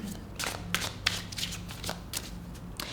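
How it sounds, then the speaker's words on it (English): Oracle cards are shuffled by hand during a tarot reading in quick bursts of riffling, several short crisp flutters over a few seconds, close and clear. "I'm going to shuffle some oracles here"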